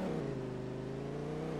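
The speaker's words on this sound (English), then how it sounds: "Go ahead and do some burnouts in the field." Lamborghini engine in Farming Simulator 22 held at high steady revs during burnouts in a field, a continuous droning whine with a slight pitch rise at the start, quiet and with no talk.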